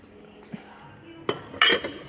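Metal and ceramic dishes clink and knock while being handled in a store's homeware aisle, with a few sharp clatters and a louder rattling burst near the end over quiet background noise.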